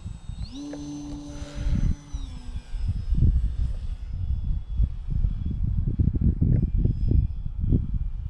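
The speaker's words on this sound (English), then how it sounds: "Gosh, this plane handles so good." A radio-controlled V-22 Osprey model tiltrotor plane taxis and flies on a windy day, with a steady whining motor tone that rises in pitch, then louder gusty rumbling wind buffets throughout.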